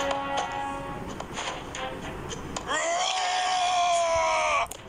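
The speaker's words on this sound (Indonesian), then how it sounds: "Tak payah jerit kau kuat lah." Loud, sustained scream that rises and holds as a shrill wail for a couple of seconds near the end, over a busy bed of mobile game sounds and music.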